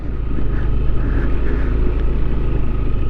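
Big trucks hauling breaker rubble on a hillside road cutting, a steady loud low diesel rumble close by that runs throughout with no talk.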